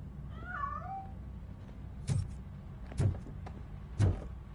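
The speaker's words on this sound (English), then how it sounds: "That cat must be hiding inside." A cat meows in the video game Robocop Rogue City, a few drawn-out wavering cries early on, followed by three sharp thuds spaced about a second apart.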